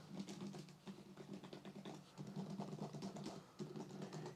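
Cleaning gel pressed onto a computer keyboard gives soft, quiet patters and light key clicks in an irregular stream, faint and close with no talking.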